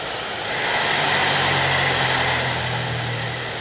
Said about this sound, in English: we're going to dry this with the hairdryer